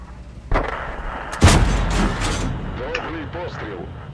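A T25 AT tank destroyer in World of Tanks fires its cannon twice, loud booming blasts with rumbling tails, as a voice speaks over the engine noise and a second shot.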